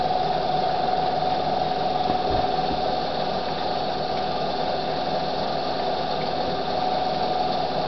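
A vacuum pump's steady mechanical motor drone with a constant hum runs evenly throughout, close and moderately loud, with no voices.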